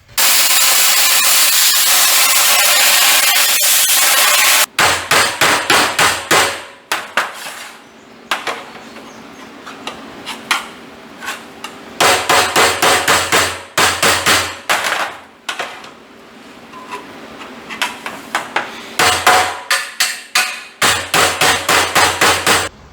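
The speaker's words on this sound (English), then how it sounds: "I might have to go out there and peck with a hammer on the fender well." Rapid bursts of metal hammering on a sheet metal fender well of a 1940 coupe ring out close and loud, stopping and starting in quick volleys, with a brief hiss at the start.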